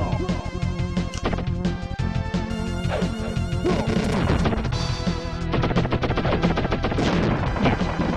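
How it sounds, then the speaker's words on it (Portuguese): Retro Wild Guns video game action in a gold mine stage, with a bomb thrown to blast enemies: dense, continuous crashing explosions and rapid gunfire layered over game music, loud and busy throughout. "Destruindo tudo lá, jogando uma bombinha."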